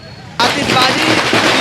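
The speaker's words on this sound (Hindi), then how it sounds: "आतिशबाजी की जो कांग्रेसियों की तरफ से की जा रही है" Fireworks go off at a street celebration, a sudden loud burst of dense crackling that carries on steadily with no pause.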